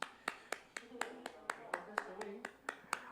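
An audience claps in a sparse, evenly spaced rhythm of sharp individual claps, close and fairly faint, more like a few pairs of hands than a full room.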